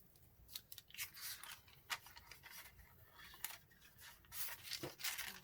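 Scissors cut paper for a handmade junk journal, a quiet irregular series of crisp snips and rustles close up, with no talk.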